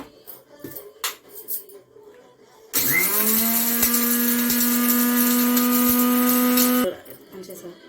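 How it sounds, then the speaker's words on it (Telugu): A mixer grinder grinding roasted spices starts up with a rising whine and runs loudly at a steady high pitch for about four seconds before cutting off, preceded by faint handling clatter. "ఇప్పుడు మిక్సీ పట్టి చూపిస్తాను"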